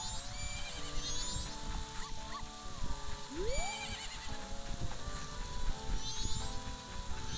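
A horse neighs in the video game The Legend of Zelda: Majora's Mask (randomizer), a short whinny rising out of steady layered game music and sound effects.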